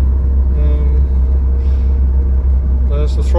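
An idling engine warms up on a Monterey Bowrider 180 boat, a loud, steady low rumble close by throughout, with someone talking over it.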